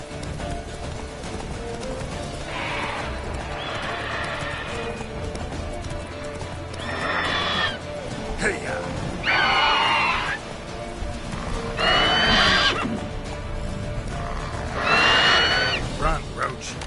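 Roach, the horse in the video game Witcher 3, gallops with steady hoofbeats and gives several loud whinnies in bursts over the rhythmic clip-clop.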